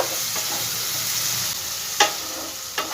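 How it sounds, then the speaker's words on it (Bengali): Chopped onion sizzles steadily in a hot pan. Two sharp scrapes of stirring stand out near the end, with a softer scrape early on. "পেঁয়াজটাকে একটু 2 সেকেন্ডের মতন ভাজা ভাজা করে নেব।"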